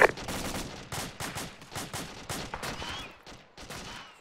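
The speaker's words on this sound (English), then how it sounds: "Getting enemy fire from 130, approximate 100 to 200 meters." Rapid bursts of enemy gunfire crackle in a fireteam exercise, a run of sharp repeated shots in quick clusters, fairly close and loud, with short gaps between volleys.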